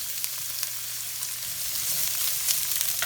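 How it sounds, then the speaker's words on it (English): Sliced carrots and onions fry in a hot pan as the start of a chicken stir fry, with a continuous bright sizzle that swells slightly toward the end and no talking. "Going to start with the carrots because they do take the longest to cook. And I'm going to put the onions in at the same time."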